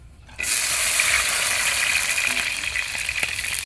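After a brief quiet moment, a loud burst of sizzling erupts as chili and garlic hit hot oil, then settles into a steady crackling fry.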